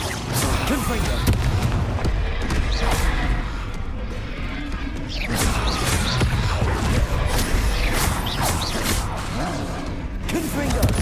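Repeated Confringo blast spells burst in Hogwarts Legacy, sharp cracks and booms scattered across a dense, noisy combat din with voices mixed in.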